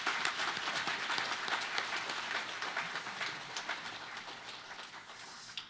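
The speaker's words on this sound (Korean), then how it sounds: "고생하셨다고 수고하셨다고 큰 박수 한번 보내겠습니다" Applause from guests at a 70th birthday banquet and company anniversary service in a function hall, steady dense clapping sustained throughout at moderate distance with no talk over it.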